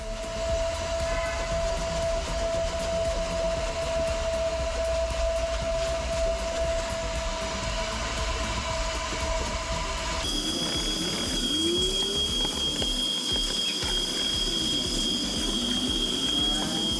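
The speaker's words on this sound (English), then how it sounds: "we need to vacuum all the dust and debris inside the car" A vacuum cleaner runs nonstop while dust and debris are sucked from inside a 19-year-old car. The steady, close whine shifts to a different pitch partway through.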